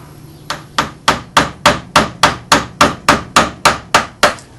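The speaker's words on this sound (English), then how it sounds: "I move on to this next gouge and this next part to cut down into these" Mallet blows drive a carving gouge into walnut wood while carving an eel, fourteen sharp, evenly spaced knocks ringing out close and loud, each with a short decaying tail, no voices.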